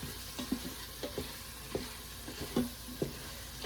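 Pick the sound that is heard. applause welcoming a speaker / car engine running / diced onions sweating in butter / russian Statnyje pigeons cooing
diced onions sweating in butter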